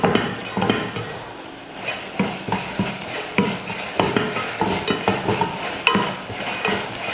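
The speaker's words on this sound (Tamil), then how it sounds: "அடுத்து கொஞ்சம் மஞ்சத்தூள் சேர்த்து வதக்கிடுவோம்." A spoon stirs tomato masala with turmeric powder frying in a pan, scraping in a steady, repeated rhythm over a continuous close sizzle. No voices are heard.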